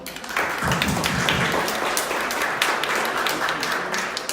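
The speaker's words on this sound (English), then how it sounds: "So give them a round of applause" An audience at an awards announcement for an annual juried art competition gives a round of applause, a dense, lively patter of many hands clapping steadily for several seconds.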